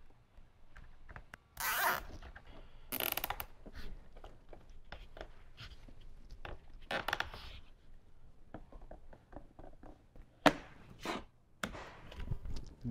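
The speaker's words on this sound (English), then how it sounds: "I'm going to zip tie it to these last two spots here." Zip ties ratchet tight in several quick, crisp zipping bursts, spaced irregularly, while a power wire is fastened along the body of a 2018–2023 Jeep Wrangler JL during a subwoofer and amp installation.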